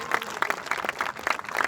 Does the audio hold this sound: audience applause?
yes